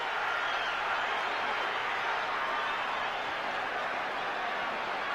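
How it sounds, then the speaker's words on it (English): A boxing arena crowd at the Mike Tyson vs Evander Holyfield rematch roars as round 3 begins, a loud, unbroken wash of cheering and noise that holds steady throughout. "Listen to the crowd."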